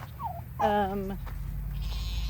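A single goat out grazing gives a clear, wavering bleat at moderate distance, preceded by a brief faint call, over steady outdoor background noise.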